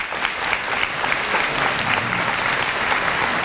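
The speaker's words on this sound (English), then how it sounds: "I want you to give them a round of applause for that authenticity." Audience at a leadership forum applauding the leaders, a full sustained wash of many hands clapping at an even level throughout.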